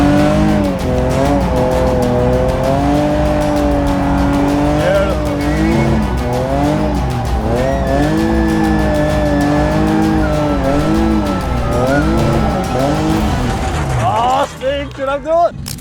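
Car drifting on a track, with long, loud tire squeals that rise and fall as the throttle is worked, over a steady engine drone, ending with a short burst of talk.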